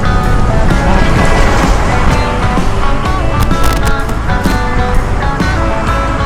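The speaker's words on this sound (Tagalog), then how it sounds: "Grabe yung hangin." Loud, steady rushing noise across the whole clip, strong wind buffeting a microphone outdoors during a mountain road ride at Bitukang Manok, with traffic or engine rumble underneath.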